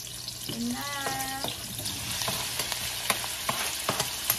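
Chicken pieces frying in a pan of oil with garlic that has turned brown, a steady sizzle rising after a brief clatter and some tonal clinks early on, with scattered small pops and stirring sounds throughout.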